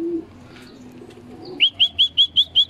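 Racing pigeons returning to a loft roof during a training toss, a soft low murmur giving way to six evenly spaced, clear calls or wingbeats near the end, close and distinct.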